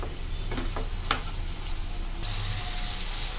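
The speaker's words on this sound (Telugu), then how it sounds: "గార్లిక్ ముద్దని ఆ చికెన్లో వేసుకొని బాగా కలుపుకోవాలి" Garlic paste stirred into chicken in a hot pan, a steady sizzle under scraping spoon strokes and a few sharper clinks, close and continuous without speech.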